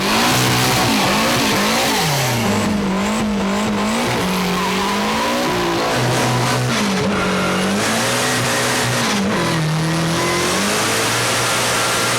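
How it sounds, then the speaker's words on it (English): Volkswagen Scirocco front-wheel drive race car, a Golf 1 based coupe with big horsepower, loud and close with repeated revving, gear changes and rising and falling engine pitch, plus brief tyre squeal, no talking. "It's called a Scirocco and was Jaco Liebenberg's choice when he decided to build a race car"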